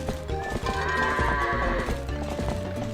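Goats bleat repeatedly in Zelda: Twilight Princess, their wavering calls overlapping up close while hooves clop steadily underneath, with no talking.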